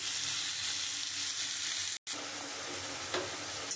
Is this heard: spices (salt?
yes